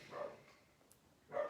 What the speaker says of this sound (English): really sorry about my dogs.